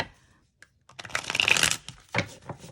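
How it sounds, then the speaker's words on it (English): A deck of cards is riffled and shuffled in a couple of quick bursts, close up, with short pauses between. "make sure you're not being too aggressive with your shuffling"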